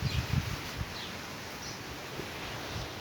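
Strong wind in a sandstorm, a broad steady rushing roar with gusty low rumbles buffeting the microphone near the start, continuous and fairly close.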